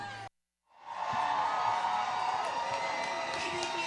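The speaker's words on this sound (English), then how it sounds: "So I want to give you a sense of the crowd" A political rally crowd cheers and whoops after a brief silent gap. The broad roar swells and holds steady, dense and fairly distant.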